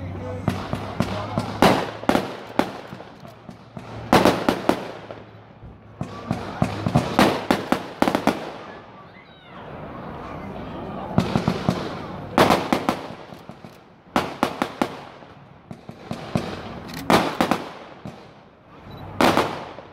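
A consumer fireworks cake, the Happy Hour with 2x16 shots from importer Vulcan, fired at a demo in Gouda: rapid loud bursts of cracking shots in repeated volleys with brief pauses, a voice heard faintly at times.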